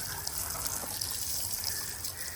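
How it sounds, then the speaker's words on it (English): A garden hose sprays water outdoors onto a resin-secured display of items from the ocean, a steady close hissing gush with no break. "I'll just hose it off."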